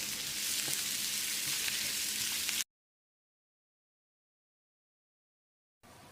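Cumin-spiced potato fry sizzles steadily in a hot pan while being stirred, a loud, close hiss that cuts off abruptly into silence, then returns briefly at the end.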